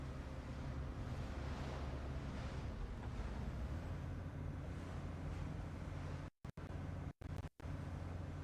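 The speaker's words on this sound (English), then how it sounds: "Why are there so many waves?" Ocean waves in a survival video game surge and wash continuously, loud and close with wind-like rush, broken by several abrupt silent dropouts near the end.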